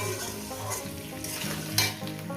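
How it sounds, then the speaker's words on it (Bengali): Potatoes sizzle in a pan for a rohu fish curry, a continuous close frying hiss over a low steady hum, with one brief scrape of a utensil and no talking. "এটাকে আমি সাত মিনিট ধরে আলুটাকে ভেজে নেব"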